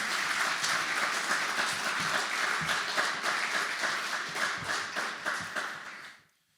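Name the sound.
applause at retirement ceremony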